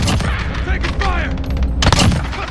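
Loud, close gunfire from the Call of Duty: Modern Warfare video game, with dense bursts of shots and a heavy thump near the end. Voices shout under the shooting.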